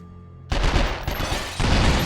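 Rapid automatic gunfire from a shoulder-stocked weapon in the video game 24: The Game, bursting in loud and sustained after a brief quiet start, with a second dense volley near the end.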